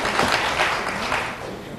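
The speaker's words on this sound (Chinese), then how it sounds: "我们拍手，再一次拍手，好不好？" A church congregation claps together during a service, a brief, dense wash of applause at moderate distance.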